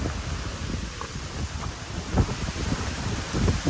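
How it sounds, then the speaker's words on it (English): Wind buffets a microphone outdoors on the Appalachian Trail, a steady rushing rumble with occasional low gusts, no voices present. "I don't know if the wind's still messing up from down here"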